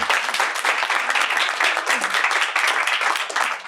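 Studio audience applause during a talk show on controlling blood glucose, bright, dense clapping that runs steadily and loudly for nearly four seconds.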